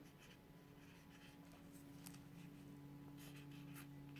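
A pen scratches a greeting onto a paper card in short, quiet strokes, soft and close over a steady low electrical hum.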